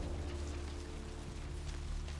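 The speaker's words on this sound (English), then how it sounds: "Just the rainy streets. The sound design, which is really subtle." Steady rain falling on city streets in Vampire: The Masquerade - Bloodlines, a soft continuous patter with a low rumbling bed, even and unbroken throughout, with no voices.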